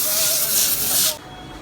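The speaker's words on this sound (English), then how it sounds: "This is what I use to put a light coating of spray on the foil" Cooking spray puffing a light coating onto aluminum foil in a kitchen: a single close, steady hiss lasting about a second, then cutting off to quiet.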